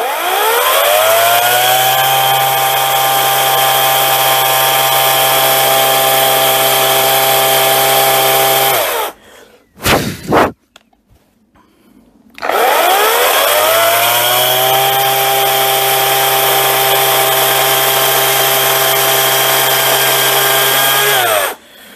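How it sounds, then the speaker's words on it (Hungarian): Parkside chainsaw ripping a log lengthwise, loud steady engine roar at full throttle, with a short break where it drops to idle before revving back up for a second long stretch of cutting. "Hallani, hogy a fűrész az nem erőlködik különösebben"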